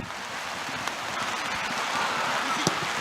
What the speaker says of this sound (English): This rain has not let up, and it is coming down in sheets at this point.